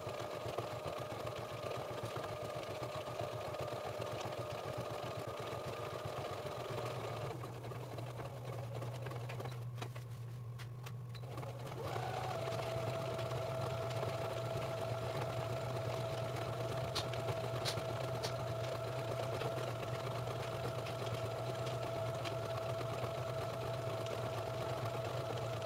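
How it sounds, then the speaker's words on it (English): A sewing machine whirs steadily as it stitches a square pattern through old towels for a bath mat, stops briefly in the middle, then starts again with a quiet, even hum. "now I'm going to take this to my sewing machine and I am going to sew a square pattern"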